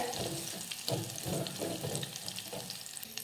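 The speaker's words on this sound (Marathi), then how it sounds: "लसणाचा कच्चेपणा दूर होईपर्यंत आपण ह्याला छान असं परतून घेऊयात" Garlic sautéed in a pan sizzles steadily and close up, with rhythmic scraping and stirring strokes over the frying noise and no voices.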